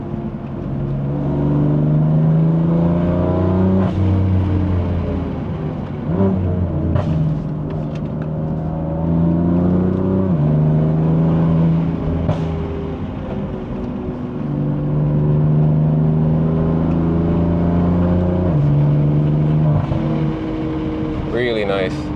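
A 2020 BMW M4 Competition with a Stage 2 tune drones steadily from its exhaust while driving, rising and falling through revs and gear changes, with someone talking over it.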